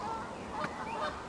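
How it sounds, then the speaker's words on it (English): Canada geese honking outdoors, a short pair of nasal honks rising above steady background ambience. "Canadian geese"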